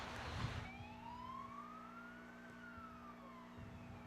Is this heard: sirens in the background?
yes